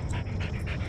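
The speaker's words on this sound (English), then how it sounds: "That's his play bark." A dog makes short, excited panting barks in quick succession, close by, with a playful, eager tone.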